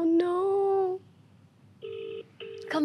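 Phone call ringing tone, two steady electronic ring bursts after a short harmonic tone, then another tone starting at the end; fairly clear with no talk over it.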